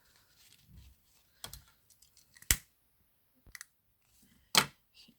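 A few crisp scissor snips cut through ribbon while a hair bow is being made, with sharp isolated clicks spaced irregularly between quiet pauses.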